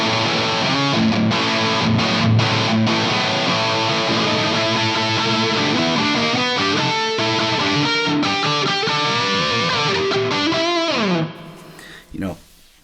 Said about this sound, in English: Now we get into that a little bit more higher gain distortion.